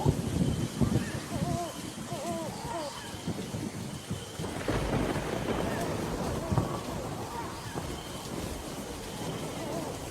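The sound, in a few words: heavy rain and thunder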